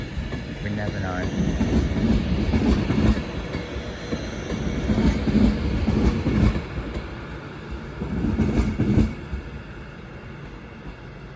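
An Avanti West Coast Class 390 train rumbles through Crewe station on the West Coast Main Line with steady low rolling noise and rhythmic wheel clatter, swelling and fading in waves before easing off toward the end.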